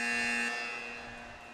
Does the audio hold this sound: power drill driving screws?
no